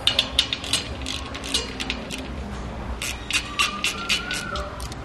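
Clamps on a motorcycle tire changing machine are tightened to grip the wheel, giving a series of sharp metallic ratcheting clicks in quick bursts, close and fairly loud, with no voices.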